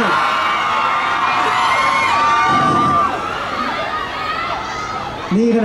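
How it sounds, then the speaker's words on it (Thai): A crowd of fans at a Lazada 12.12 sale event screams in loud, sustained high-pitched shrieks that rise and fall, with a few whoops in the mix. "นี่ขนาดแค่ซับเหงื่อยังกรี๊ดกันขนาดนี้เลยนะฮะเนี่ย"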